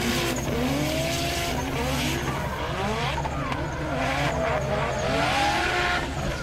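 Drift car sliding through a drift competition round at Val d'Argenton, engine wailing with rising and falling revs alongside sustained tire squeal, loud and continuous, with an announcer's voice faintly under it.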